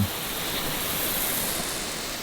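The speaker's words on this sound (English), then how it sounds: "Not only that bluegrass is pretty, but that water hitting it" A sprinkler sprays water onto a bluegrass lawn, giving a steady, even hiss of falling spray that stays constant and fairly soft with no talk.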